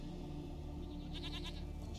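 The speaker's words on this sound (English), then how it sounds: "Here, goat." A goat in The Witcher 3 bleats in a short wavering call over a dense, steady game ambience, fairly faint against the background.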